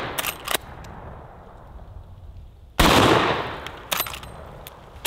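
A .45-70 rifle fired from the hip outdoors gives one loud, sharp shot with a long decaying boom that fades over about two seconds, framed by fainter clicks and handling knocks of the gun before and after.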